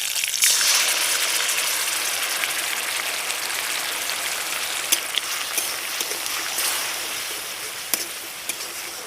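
Black mustard seeds, curry leaves and tomato paste sizzle in hot oil, a steady close hiss like rain, with scattered sharp pops and crackles of seeds spitting in the pan and no voices.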